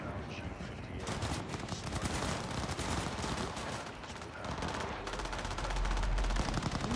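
Sustained, dense gunfire from the video game Cyberpunk, with loud overlapping rapid shots forming a continuous barrage for the whole stretch and no pauses.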